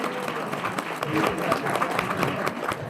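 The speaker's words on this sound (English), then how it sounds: "Big round of applause, please, for Dusty Cat and all the other volunteers" An audience applauds volunteers at a live event, a continuous wash of clapping from a crowd, moderately distant and even in level throughout.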